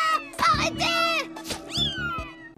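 Cats meow in an animated cartoon episode, several short pitched meows close together over a sustained musical tone, loud and near.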